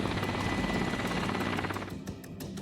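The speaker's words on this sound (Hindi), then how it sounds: "Mi-8 हेलीकॉप्टर से भयानक हमला।" A Mi-8 helicopter in flight during a military strike, its rotor chop and turbine roar loud and continuous, easing slightly toward the end.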